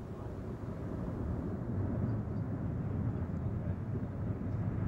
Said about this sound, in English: We have liftoff of the Delta II rocket carrying the Mars Polar Lander